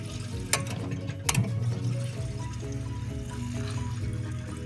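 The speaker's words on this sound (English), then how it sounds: "You hear the tank filling back up." Water runs and trickles steadily into a well pressure tank with a low, even hum behind it, and a couple of sharp knocks come early on.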